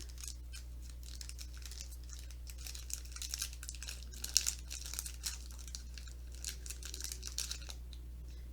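Plastic wrapper from a raspberry-flavoured Japanese KitKat crinkles softly in close handling, with light irregular rustles and a few sharper crackles, no talking.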